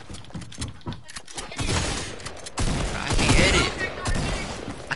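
SMG fire in a video game: loud rapid bursts of gunshots stacked into dense rattling volleys, growing heavier toward the end, with a player's voice between them.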